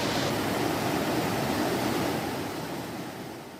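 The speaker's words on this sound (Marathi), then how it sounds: "आपण पाहू शकता की ओसंडून जे पाणी आहे ते वाहत आहे" Water overflowing the Chikhloli dam in Ambernath roars as a steady, dense, close rush that fades slightly toward the end, with no voices.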